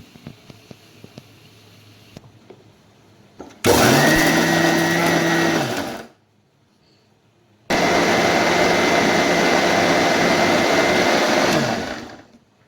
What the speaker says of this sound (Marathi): मिक्सरमधून आता पेस्ट बनवून घेऊया आपण.